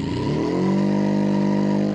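Car engine revving steadily in BeamNG.Drive, a loud, continuous sustained drone that rises in pitch early on and then holds at high revs for two seconds.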